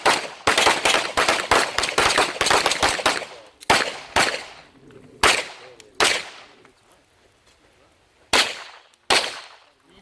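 Handgun shots fired from the holster during a carry training class, a rapid burst of sharp cracks in quick pairs followed by scattered single shots echoing at a range, loud and close with no talk over them.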